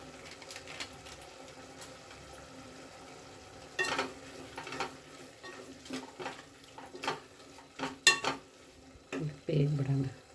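Methi leaf pulao with biryani powder being stirred in a pan, faint scraping and clinks of a spoon against metal that get louder and more frequent toward the end, with soft sizzling beneath.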